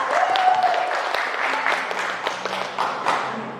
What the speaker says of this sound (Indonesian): kita berikan tepuk tangan untuk Bapak